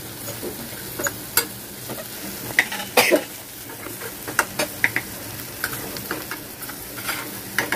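Okra sautéing in a pan while a small spoon stirs it from the bottom up, giving steady sizzling with repeated sharp scraping clicks and taps against the pan, close and alone with no talking.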